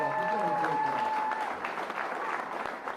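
Applause from a crowd at a new elementary school's dedication ceremony, a dense steady patter of clapping that fades slightly toward the end, with a voice faintly audible under it.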